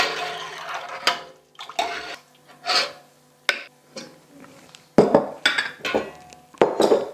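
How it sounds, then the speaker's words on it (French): Cooked carrots for Vichy-style preserving are spooned into glass jars, giving a series of close, separate bursts of scraping, rustling and light clinking with quiet gaps between them. "j'ai bien commencé hein, à remplir mes pots"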